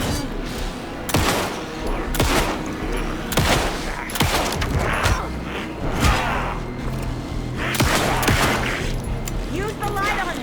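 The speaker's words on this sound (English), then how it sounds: "Anderson, pin him down with gunfire for me to get the light on him." Rapid bursts of gunfire ring out in the video game Alan Wake 2, repeated volleys of sharp shots and thuds across the scene, with voices calling out between and over the shooting.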